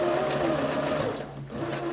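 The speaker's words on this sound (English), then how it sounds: "all I have to do is go ahead and sew" A Singer Quantum Stylist sewing machine running a long basting stitch, a close steady mechanical whir with a quick rhythmic needle patter that dips briefly near the end, with no voices.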